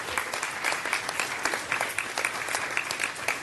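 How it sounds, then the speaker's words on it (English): An audience at a school district board work session in Texas claps steadily, a sustained, even round of applause heard at moderate distance with no talk over it. "That deserves a huge round of applause."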